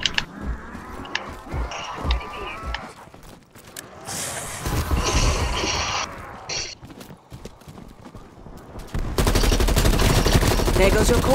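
Gunfire in a Call of Duty Zombies match: scattered shots and bursts mixed with galloping hoof clatter and game noise, building to a dense, steady barrage at the end.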